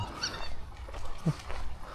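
A very large dog is heard outdoors in the Scottish Highlands, giving soft whimpering and yipping sounds over a steady outdoor background through most of the two seconds.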